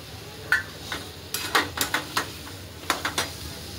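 Spatula scraping and clanking against a pan while potato paratha filling with coriander is stirred, a dozen or so sharp metallic strikes in irregular clusters, close and distinct over quiet background; no talking.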